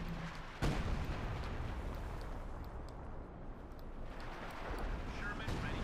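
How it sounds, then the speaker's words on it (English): A howitzer fires in the Company of Heroes 2 strategy game, one sharp boom followed by a long rolling rumble of battle noise, with a commentator talking over it. "We got the howitzer firing."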